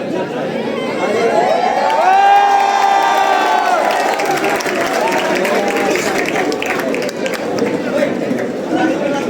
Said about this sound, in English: Keep cheering guys, don't stop.